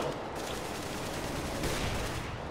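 Dense, continuous CS:GO gunfire roars throughout, a sustained wash of rapid overlapping shots at steady loudness with no talk.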